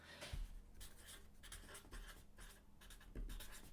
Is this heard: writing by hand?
yes